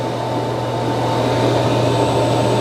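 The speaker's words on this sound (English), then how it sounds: "now it's going to empty the dust bin." Robot vacuum dock emptying the dust bin, a loud, steady mechanical whir with a constant low hum, unchanging from start to finish.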